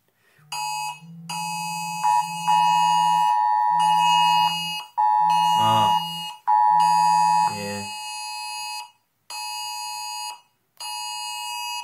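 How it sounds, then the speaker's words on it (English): A loud emergency alert tone from a phone app during a German government alarm test blares in repeated on-off bursts of a harmonic, siren-like beep across about twelve seconds, with brief gaps and warbling stretches between segments. "that was just the German government just make an emergency alarm because they test a new app"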